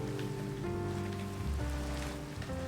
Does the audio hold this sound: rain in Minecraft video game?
yes